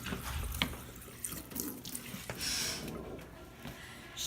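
Water from a school water fountain runs in a quiet, continuous splashing stream, with small gurgles and a few drips, heard close and alone.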